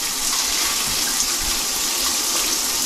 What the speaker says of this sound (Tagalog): magandang labas ng tubig sa may shower